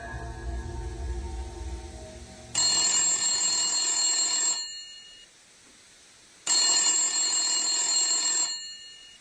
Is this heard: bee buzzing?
no